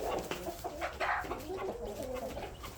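A backyard flock of many chickens clucks and murmurs in overlapping, close calls, with a busy, continuous chatter.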